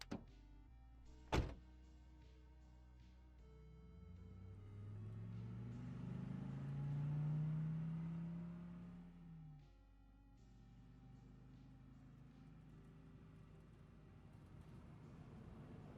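A car on the road, with a thunk near the start, then a low engine rumble that swells and fades in the middle, quiet and somewhat distant, with no talking.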